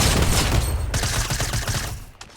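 Rapid bursts of video game gunfire crackle densely and loudly, fading out toward the end, with no talk.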